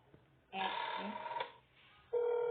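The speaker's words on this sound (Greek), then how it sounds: "Θα πάρω ένα τηλέφωνο." A telephone rings in a clown horror video game played on full nightmare mode: one long electronic ring burst, a short pause, then a second ring starting, clear and alone.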